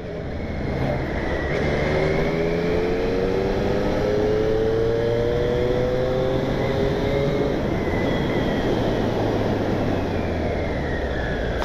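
A 2020 Triumph Street Triple S 660 motorcycle ridden up a mountain pass, its engine droning steadily and loud with gliding pitch changes as it accelerates and brakes, wind rushing throughout.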